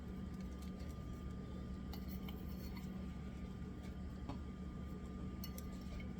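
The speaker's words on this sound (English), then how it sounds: "Hear that searing? That's exactly what they want to hear." Pepper-encrusted salmon sears in a smoking hot pan, giving a steady, fairly quiet broadband sizzle that runs throughout, with a few faint clinks of kitchenware on top.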